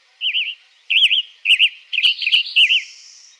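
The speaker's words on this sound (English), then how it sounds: "Here's the tanager song." A tanager in southeastern Arizona sings a series of short, warbled whistled phrases with brief pauses between them, clear and fairly close against a quiet background.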